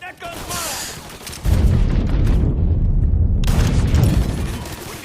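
Molotov cocktail bursting in a first-person shooter game, a sudden loud rumbling blast about a second and a half in that roars on with crackling fire and gunfire, after a stretch of background chatter and noise.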